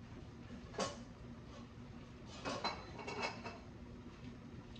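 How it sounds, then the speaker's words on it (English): A metal lid is set onto a cooking pot of beef short ribs, giving a sharp clink followed by a few lighter rattling knocks as it settles slightly cracked, over quiet kitchen background. "I'm going to kind of put my lid like that"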